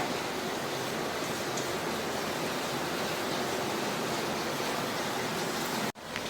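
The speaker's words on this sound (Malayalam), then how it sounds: "കേൾക്കുന്നുണ്ടോ? പുറത്ത് നല്ല മഴയാണ്." Steady, dense rushing hiss of heavy rainfall outdoors, heard from inside, unbroken and loud, cutting off abruptly near the end.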